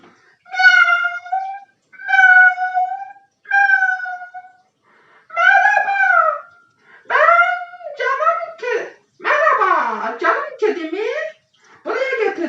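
A pet cat meows repeatedly and close by, several drawn-out calls followed by quicker, more varied cries and complaining yowls, with short gaps between them.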